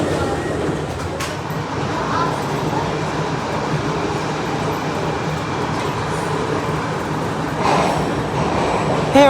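Inside a Turin metro train on a ride to Porta Nuova: a loud steady rumble and roar of the carriage fills the whole stretch, with faint squeals and a slight swell near the end.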